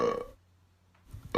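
A close, loud person's burp at the start, a short pause, then another burst of burping sound rising at the end.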